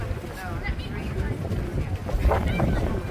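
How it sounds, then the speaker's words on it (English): Gusty wind buffets the microphone with low rumbling noise while a person talks intermittently nearby. "It is windy."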